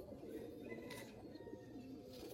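Pigeons coo softly among a flock kept by a pigeon fancier, low and faint against a steady background with no talk.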